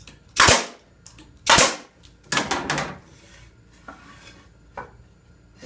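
Pneumatic nail gun tacking a wooden Langstroth beehive telescoping outer cover, two loud sharp bangs then a quick cluster of shots, followed by fainter knocks and handling clatter, with no talking.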